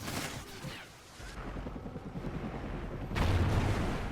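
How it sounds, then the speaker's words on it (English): Gunfire through a wall in the video game Call of Duty Ghosts: muffled bursts of rapid shots and low booms, with a louder, heavier burst near the end. "Shoot right through the wall."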